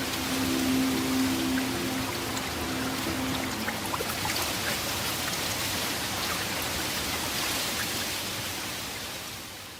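Creek water flows in a dense, steady rushing wash that fills the whole stretch; a faint low hum sits underneath at the start, and no one speaks.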